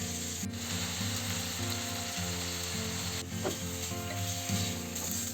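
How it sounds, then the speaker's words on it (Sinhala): Marinated chicken pieces fry in hot melted butter in a pan, giving a steady, close, dense sizzle with occasional stirring scrapes, and no voices. "බටර් ටික රත් වුණාට පස්සේ විනාඩි 10ක් මැරිනේට් වෙන්න තියාගත්ත චිකන් ටික එකතු කරගෙන රන්වන් පාට වෙනකන් කුක් කරගන්න ඕනේ"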